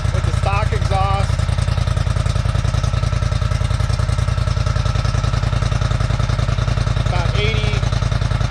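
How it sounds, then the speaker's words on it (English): A Polaris Scrambler 1000XP with its stock exhaust idles steadily throughout, a low, even rumble with a close, constant pulse, while a person talks over it. "let's see what happens after we start this thing with the stock exhaust"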